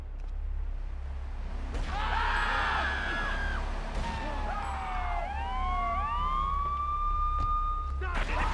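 Police car siren in the video game GTA 3 wails and yelps in rising, falling sweeps over a low rumble, with brief voices under it.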